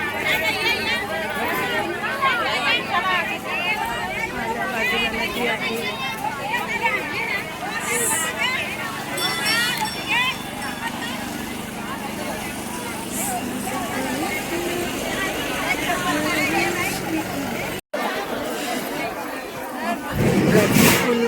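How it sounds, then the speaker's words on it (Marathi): A big, dense crowd of devotees at the Kelmba Devi temple during Navratri makes a continuous close babble of many voices, with a brief cut near the end before the noise resumes. "खूप गर्दी आहे खूपच गर्दी आहे"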